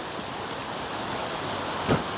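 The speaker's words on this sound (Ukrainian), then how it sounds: "О, гарний пішов дощик." Rain falls in a steady, even hiss with no breaks, a soft wash of noise outdoors with one brief louder patter near the end.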